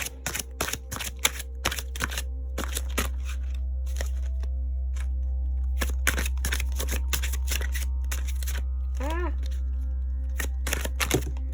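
A deck of oracle cards is shuffled in sharp, crisp riffles and snaps, a series of close bursts separated by short pauses over a low steady hum, with a person speaking briefly in between.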